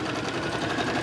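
A sewing machine running a 4.0-length top stitch while quilting a beginner boxy bag, a steady close whirring hum with a fast even rhythm of needle strokes and no pauses.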